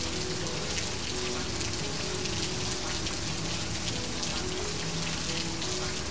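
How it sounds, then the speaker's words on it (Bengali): Heavy rain pours down by a riverside hut in an animated story, a dense, steady hiss of drops beating on surfaces that stays constant throughout, with no voices. "ঝুপঝুপ করে আকাশ ভেঙে বৃষ্টি শুরু হয়"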